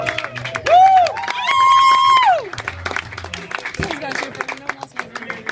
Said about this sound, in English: Everybody's cheering for him.